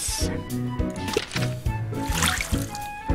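Watering plants in the farming video game Castaway Paradise: a light trickling, splashing water effect runs under bright, steady game music throughout.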